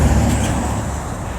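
Road traffic rumbles past a bus stop, a loud, steady low engine drone of a passing vehicle close by that eases slightly as it goes.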